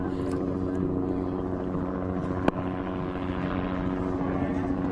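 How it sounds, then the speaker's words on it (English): A yellow helicopter flies overhead during a protest raid, its steady rotor and engine drone a continuous, moderately loud hum throughout, with one sharp click partway through. "That noise you can hear is the yellow DAPL helicopter flying overhead."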